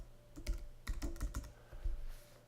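Typing on a computer keyboard while entering data into a spreadsheet: scattered clusters of quick key clicks with short pauses between, close and fairly quiet.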